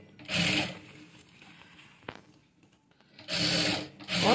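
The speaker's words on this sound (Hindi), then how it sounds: "पूरे में मैं इसको कवर करते हुए सिलाई कर लूंगी।" A sewing machine stitches golden lace onto a kaftan dress in short loud whirring runs, one at the start and two toward the end, with a quieter pause between.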